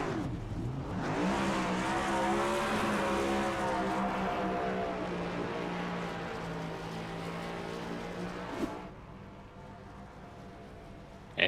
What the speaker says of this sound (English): And the burnouts, let them happen.